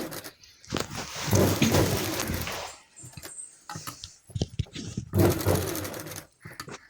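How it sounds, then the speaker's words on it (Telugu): Sewing machine stitching along the neckline of a model blouse, with bursts of steady motor whirring that pause and restart, the longest run near the start and another toward the end. "మనం నెక్ పక్కనే కుట్టుకుంటూ రావాలన్నమాట"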